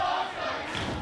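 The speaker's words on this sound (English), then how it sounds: "And the crowd chanting, Dante," Wrestling crowd chanting "Dante" at an OCW event, a loud, massed roar of voices that rises and falls through a short rhythmic chant, with scattered thuds beneath.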